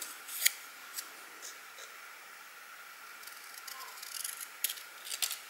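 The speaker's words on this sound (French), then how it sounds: "je vais couper en deux" Scissors snipping through a paper card label, a series of crisp, close clicks and short slicing cuts spaced irregularly, quiet with no other sound.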